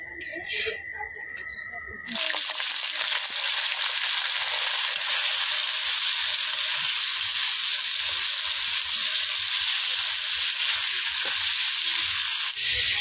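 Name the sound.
frying cauliflower and potato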